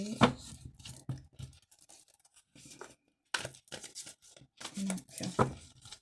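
Oracle cards are shuffled by hand in bursts of papery riffling and crinkling, close and fairly quiet, broken by short pauses and faint background voice.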